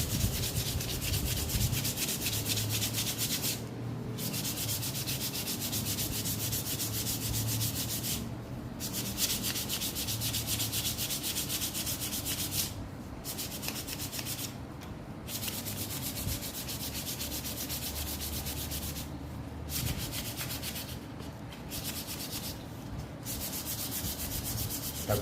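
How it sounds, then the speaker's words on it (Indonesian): Steady abrasive rubbing along a kite's middle spine, cleaning off old binding-thread marks to make it smooth again; a continuous close scratchy scrubbing broken by short pauses, with no voices. "kita gosok terus teman-teman ya. Supaya licin kembali teman-teman."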